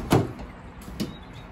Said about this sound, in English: We've got our usual dual opening doors with our Vivaro E lettering on the back.